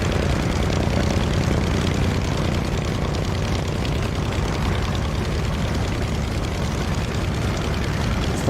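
Old propeller airplane engine in Microsoft Flight Simulator, a steady, loud droning hum holding evenly throughout with no talk over it.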